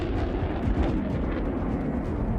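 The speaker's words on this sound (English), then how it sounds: "The coordinates are entered into the computer, after which 2 rockets shoot into the sky at once." A HIMARS launcher fires two M30A1 rockets, heard as a steady, rumbling roar of rocket motors that holds at moderate loudness throughout without any distinct separate blasts.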